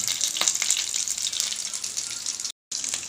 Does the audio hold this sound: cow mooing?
no